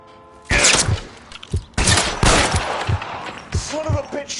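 Gunfire in L.A. Noire, a gunfight: several sharp shots in irregular bursts, loud and close, with other game sounds between them and a voice briefly audible.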